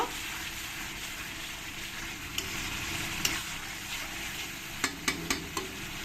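A spoon stirs a butter mutton curry masala, with turmeric and salt added, through a hot pan of oil. It makes a steady close sizzle and scraping, and a few sharp taps of the spoon against the pan come near the end.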